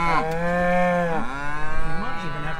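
Cattle moo loudly and close by, one long drawn-out low call followed by shorter rising and falling moos.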